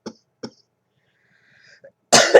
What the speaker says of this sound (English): I'm going to be coughing somewhat through this